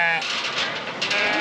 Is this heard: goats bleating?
yes